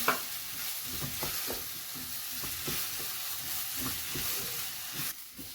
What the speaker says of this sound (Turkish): içine mercimeğimi atıyorum. Bunları kavuruyorum.